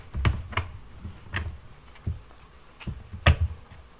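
Tarot cards being shuffled by hand, a series of soft, close papery taps and riffles in an uneven rhythm, with no speech.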